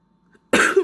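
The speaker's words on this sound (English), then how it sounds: "Sorry, I keep coughing" A single sharp cough bursts out close by after a brief quiet moment.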